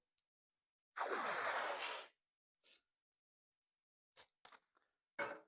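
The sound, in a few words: piece of painter's tape pulled off roll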